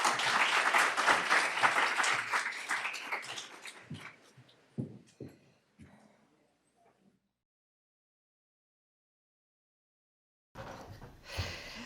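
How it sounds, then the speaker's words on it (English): An audience applauds a speaker at a clinical talk on diabetic foot complications, a loud burst of many hands that thins into scattered claps and fades to silence before room sound returns. "So can we have a round of applause for Debbie"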